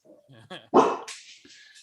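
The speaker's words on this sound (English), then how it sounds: "Okay, now my dog's got to start barking." A dog barks once loudly and close by, a single sharp bark that rises out of quieter talk, with people speaking before and after it.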